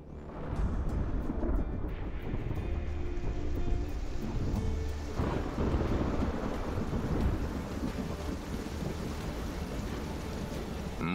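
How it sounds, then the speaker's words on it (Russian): A tropical monsoon thunderstorm on an Indonesian island: dense, steady rain hisses and patters while deep thunder rumbles and rolls continuously, loud and enveloping. "Однако высоко над ними собирается другая буря."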